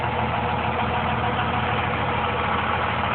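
A 2001 Dodge 4x4 pickup's Cummins turbo diesel engine idles steadily, a close, even low rumble running alone with no talk.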